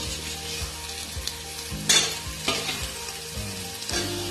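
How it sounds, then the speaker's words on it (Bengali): Fried potato pieces stirred into sizzling spice masala for a tilapia fish curry, with a steady fry and repeated scraping strokes of a spatula against the pan and no voices. "মশলার সাথে ভালোভাবে আলুগুলো নাড়াচাড়া করে নেব।"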